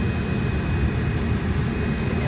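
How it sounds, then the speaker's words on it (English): An airliner parked or taxiing just outside a passenger's window rumbles as a steady, low, broadband engine drone inside the cabin, with no talk. "there's a plane right next to me"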